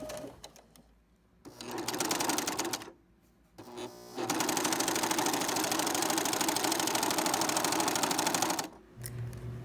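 A sewing machine stitches a seam on an African print fabric skirt, running in steady rapid bursts of mechanical whirring with brief pauses between, close and continuous, with no talking.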